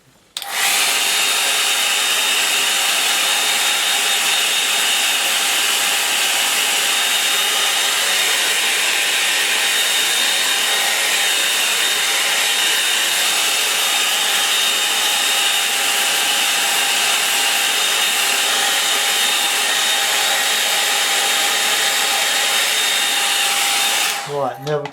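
A hair dryer drying something off runs as a steady, loud, close whirring blow for the whole stretch, starting and stopping abruptly, with no voices.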